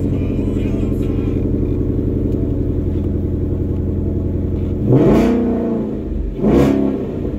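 A 2017 Ford Mustang GT V8 idles with a loud, steady, close rumble before two sharp revs blip up and fall back, each followed by the burbling idle again.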